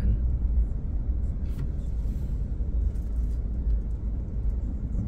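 Slow, creeping road traffic in a jam: a deep, continuous engine rumble with steady low-frequency drone, close and unbroken, and a faint brief higher sound partway through.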